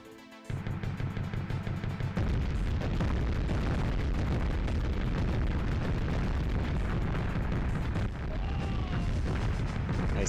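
Continuous, loud barrage of explosions and booming blasts from the PS1 tank combat game Mass Destruction, dense and rumbling throughout with a brief lull near the start.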